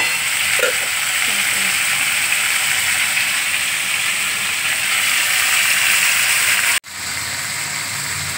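Ridge gourd and potato frying in a pan with a steady sizzle, a few scraping stirs near the start, then a brief abrupt break before the sizzling resumes.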